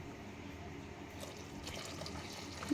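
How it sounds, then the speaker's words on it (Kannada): Water poured into ground batter in a vessel, a faint, quiet trickle and splash that swells slightly near the end. "ಅದಕ್ಕೆ ನೀರು"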